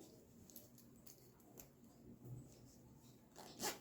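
Zipper on a sewn fabric pouch with a lining being pushed and handled during sewing work, giving faint scattered rustles and short zip scrapes with a sharper burst near the end, no talking.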